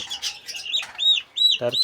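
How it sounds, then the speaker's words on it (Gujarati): Bird calls at a mini zoo, where a turkey is on show: a few short, bright calls recur in quick succession close by, then a couple of lower harsh bursts near the end, with no talk over them. "જો આ છે ટર્કી બર્ડ"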